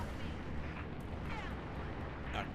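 Gunfire in the Halo: Reach video game, a dense, continuous rumble of distant shooting and blasts with a few brighter bursts, steady and fairly loud throughout.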